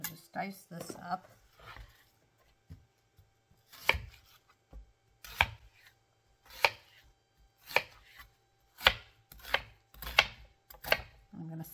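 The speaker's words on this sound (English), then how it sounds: "I'm going to just dice this up." Knife dicing a white onion on a cutting board while making beef stroganoff in a cast iron skillet: several sharp, close chopping thuds, spaced out at first, then coming in quicker bunches, with a few soft rustles early on.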